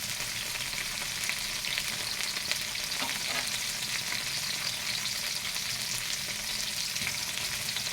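Tomatoes sauté in a hot frying pan for a dish of bottle gourd and sardines, giving a steady, dense sizzle close by, with a few soft stirring scrapes partway through.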